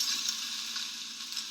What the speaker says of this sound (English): you've just got this constant fizzle